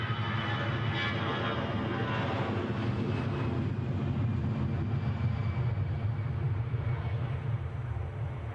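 An aircraft taxiing quickly at Edinburgh Airport gives a steady, broad engine roar that holds at an even loudness throughout, with some wind buffeting and no voices.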